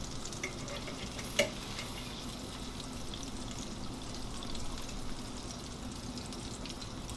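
Two bacon slices sizzle in a pan of hot oil with a steady, moderately faint crackling hiss and an occasional soft pop, no voices over it.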